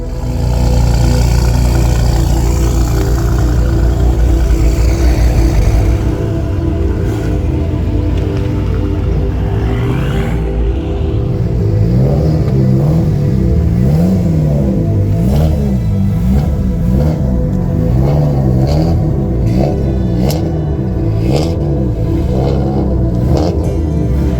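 Tuned performance cars, including a Mitsubishi Evo 5, an 850 bhp BMW M5 and a 500 bhp Audi S4 B5, idling and revving as they head out together. The engines drone loud and close, rising and falling in repeated revs with no talk.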